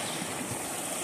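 Crystal-clear water from a mountain stream rushing out beneath large boulders, a brief, close, steady hiss and gurgle with no other sounds.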